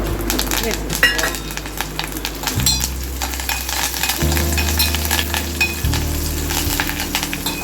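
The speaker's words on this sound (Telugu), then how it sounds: "ప్యాన్ పెట్టుకొని అది కాస్త వేడైన తర్వాత 1 టేబుల్ స్పూన్ ఆయిల్ వేడైన తర్వాత పోపు దినుసులన్నీ వేసుకోవాలి" Whole spices tempering in about a tablespoon of hot oil in a pan for tomato-coriander chutney, a steady close sizzle and crackle throughout with occasional stirring clinks, no talk.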